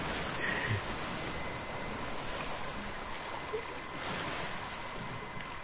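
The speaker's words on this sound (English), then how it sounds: "Waterfall, waterfall." Rushing waterfall water in the video game A Way Out, a steady broadband roar holding at an even level throughout, with no voices over it.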